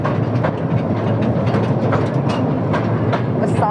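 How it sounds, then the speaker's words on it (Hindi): An old-style train runs at a rail museum, a continuous close rumble with rhythmic clickety-clack of wheels over rail joints, steady and fairly loud with no talking. "साउंड एकदम पूरा जैसे ट्रेन पहले चलती थी वैसा आ रहा है"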